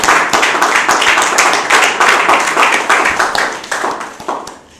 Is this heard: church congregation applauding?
yes